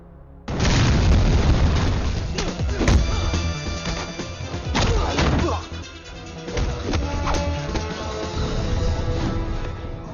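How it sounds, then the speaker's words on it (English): A hidden explosive goes off during a film fight scene, a dense, loud burst of booms and crashing impacts spread over several seconds, with debris clatter and heavy thuds continuing as a dramatic score plays underneath. "Enraged, Don triggers a hidden explosive, plunging the room into chaos."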